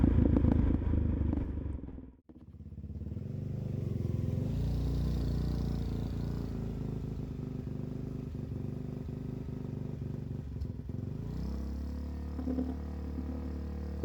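Suzuki DRZ dirt bike engine running steadily near the microphone, a loud, continuous rumbling idle with a short drop around the two-second mark, then the same even drone throughout.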